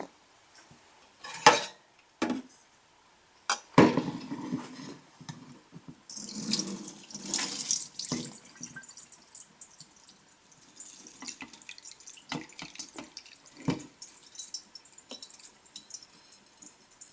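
Water runs and splashes through a tiny fine-holed colander while quinoa is rinsed at a kitchen sink, with clinks of metal and dishes, brief taps early on, then a steady trickle and patter close to the microphone.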